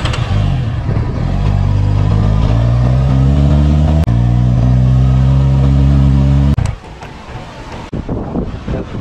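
A car engine rising and falling through accelerations, with harmonic whine stepping up through gears and heavy wind buffeting on the microphone, loud and close, ending abruptly as the car slows into quieter city ambience.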